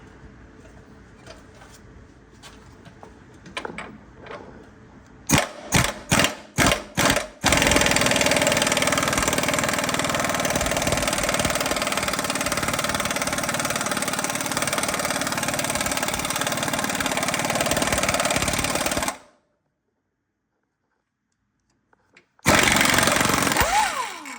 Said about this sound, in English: Might have to put the impact on it.